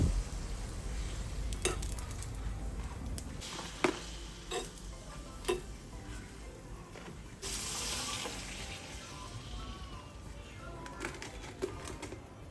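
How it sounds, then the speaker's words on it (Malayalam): Pappadam fries in hot oil in a home kitchen, with a soft steady sizzle broken by sharp clicks and taps and a brief louder hiss of bubbling oil midway. "കൂട്ടത്തിലെ പപ്പടവും കൂടെ അങ്ങ് പൊരിക്കാമെന്ന് വിചാരിച്ചു"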